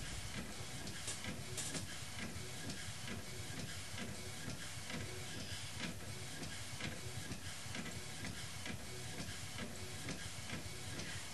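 A printer producing Christmas ornaments runs steadily: a continuous mechanical whir and hiss with rapid, regular ticking pulses, close and unchanging throughout with no pauses.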